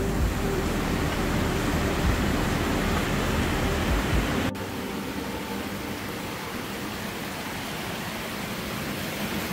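Broad, steady rushing of water in Austria, loud and close, with no voices; partway through the roar abruptly drops to a slightly quieter but continuous wash.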